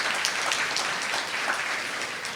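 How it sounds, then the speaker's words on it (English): A room at a mayors' summit applauds the volunteers who put together the floor arrangements, with steady, moderately loud clapping throughout and no voices over it. "So let's give them a special round of applause if we could"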